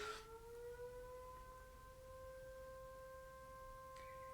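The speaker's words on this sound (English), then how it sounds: "The fire siren going on." A fire siren wails in the distance, its steady tones holding for several seconds over low background rumble.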